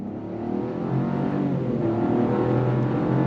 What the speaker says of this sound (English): let's do a little bit of an on throttle from a dead stop